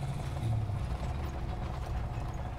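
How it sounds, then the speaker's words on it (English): An enemy armored vehicle engine rumbles in War Thunder, a low steady mechanical drone with faint rattling, continuous and moderately loud with no speech. "Oh, I hear engine."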